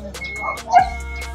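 A pet dog gives a few short yips and whimpers up close, with a louder bark-like burst near the end, in a quiet setting with a steady low hum.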